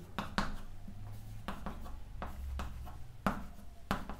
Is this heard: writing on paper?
yes